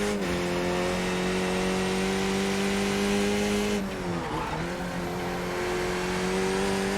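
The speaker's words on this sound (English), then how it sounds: "Good to have tire squeal back in." Race car in a racing video game letting out a sustained high tire squeal over a steady loud engine drone, with the pitch dipping briefly midway as the car slides through a corner.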